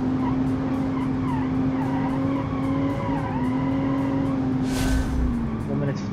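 Rear-wheel drive sport hatchback on a racing circuit, its engine droning steadily and loud throughout, with tires squealing and skidding as it slides around the bends, plus a brief harsh scrub near the end.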